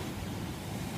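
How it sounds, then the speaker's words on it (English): Steady broadband rush of water at a stream crossing along the Pacific Crest Trail between Stehekin and Stevens Pass, Washington, a continuous close wash with no voices. "we have to cross over like rushing water"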